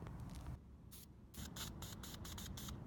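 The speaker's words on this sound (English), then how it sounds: "doing a little bit of test spraying to make sure that it's, working out alright." Tan spray paint hisses from an aerosol can in short test bursts onto a hat, several quick sprays with brief pauses, steady and close against a faint background hiss.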